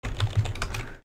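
Rapid keystrokes on a computer keyboard entering a Linux terminal command on Ubuntu, a quick, close burst of clicky taps lasting about a second before stopping.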